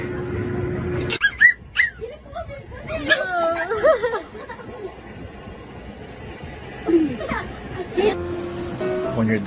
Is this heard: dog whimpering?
yes